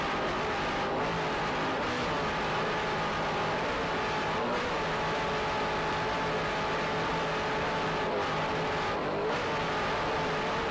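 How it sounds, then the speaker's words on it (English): A 28-foot offshore racing powerboat with twin 550 horsepower racing engines and Mercruiser drives roars continuously at full throttle, loud and close, with slight pitch swells over about ten seconds. "What a ride aboard this 28-foot Mana Fever, powered by two 550 horsepower Zool racing engines with Mercruiser drives."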